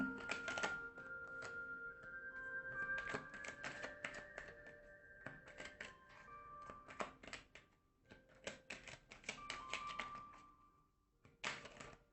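Tarot cards being shuffled by hand, a run of quick papery taps and riffles, close and soft, with a faint tonal hum in the background.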